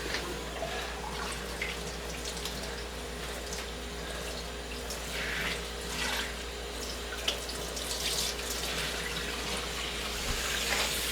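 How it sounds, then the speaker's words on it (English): Water runs steadily from a sink tap in a continuous, moderately close, even hiss that lasts throughout, with no talking over it. "All we're going to do is turn on the water."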